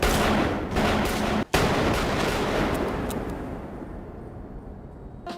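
Gunshots ring out in a film scene aboard a subway train where three men are shot dead, loud sharp reports over a dense rumbling mix, with someone speaking briefly over the scene.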